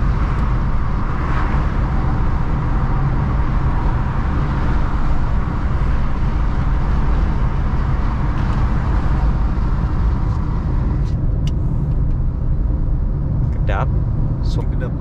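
Tyre roar fills the cabin of a 2023 Suzuki XL7 Hybrid cruising on a toll road, a steady low rumble throughout, with a few faint clicks and knocks late on.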